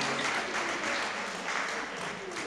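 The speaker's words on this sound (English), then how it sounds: "let's give a round of applause to all the elders in the room" Applause from an audience at a community convention, a continuous dense patter of many hands clapping at a moderate distance, steady throughout and fairly quiet.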